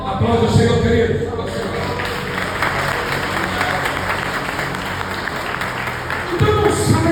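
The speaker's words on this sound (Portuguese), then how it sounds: "Aplauda o Senhor, querido." A church congregation applauds steadily throughout, dense clapping at even loudness, with a preacher's voice and a low musical hum underneath at the start and end.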